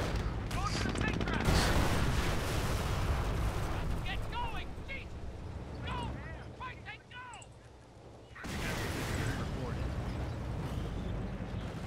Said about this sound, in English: My little tank's gonna shoot it in the ass.